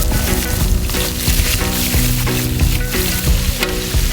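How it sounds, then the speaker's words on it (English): Chicharrones (pork rinds) fry in a pan with a continuous loud sizzle, broken by periodic clinks and stirring, with no voices. "We're gonna do chicharrones and then we're gonna fry the fish."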